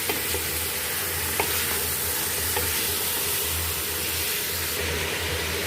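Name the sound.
stirring 1 kg beef frying in pot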